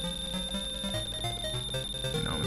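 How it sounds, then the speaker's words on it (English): Underwater drowning countdown alarm from the Game Gear Sonic the Hedgehog game, a tense looping chiptune with steady high pitched tones and a pulsing, urgent melody playing alone. "he can't breathe underwater forever. For a countdown timer, it sure does move really slow"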